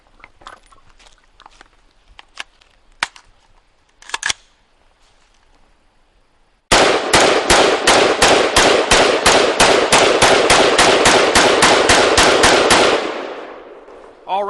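AR-15 style rifle firing from a magazine packed with dirt: after a few faint handling clicks, a loud, close, rapid string of about two dozen evenly spaced shots runs for several seconds, then stops when the gun locks open.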